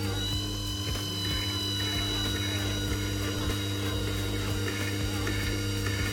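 A chisel-sharpening wheel spins with a steady mechanical hum and faint ticking, constant and close throughout.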